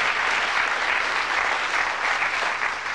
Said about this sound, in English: We'd like you to give a nice warm round of applause to Jock as he throws for charity tonight.